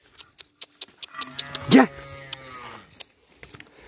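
Cattle at a cow sale, including milking cows, give one loud, drawn-out moo near the middle of the clip, with sharp knocks and clatter around it.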